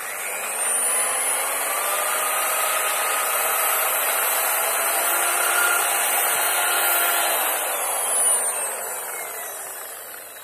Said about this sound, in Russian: Положил дрель и вот так просто.